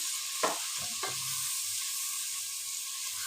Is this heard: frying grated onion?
yes